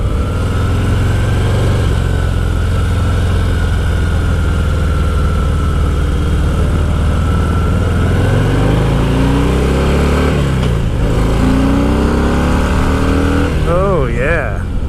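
A Harley-Davidson Heritage V-twin 114 engine with stock exhaust rumbles steadily and loud, then revs up and down in rising and falling sweeps near the end, with a voice briefly audible.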